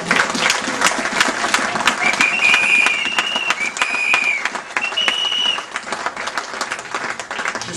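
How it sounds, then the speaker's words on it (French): A church congregation applauds loudly and continuously, with scattered cheers and a few raised voices rising above the sustained clapping. "Est-ce qu'on peut donner une acclamation à notre Dieu?"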